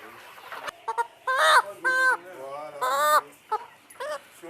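Chickens and roosters in a henhouse, several close, loud clucks and squawking calls in short bursts, with quieter rustling and murmurs between them.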